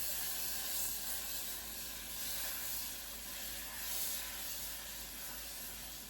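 Butter melting in a very hot pan on the stove for hollandaise sauce gives a steady, even sizzle and hiss that holds with no break, close and moderately loud, with no voices over it.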